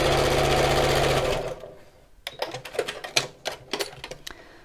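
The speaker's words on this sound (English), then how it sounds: "And then you can carry on sewing from the same spot without getting a wobbly line." A sewing machine stitches a zip in a fast, steady whir for over a second, then stops; a series of short clicks and clacks follow as the fabric and zip pull are handled.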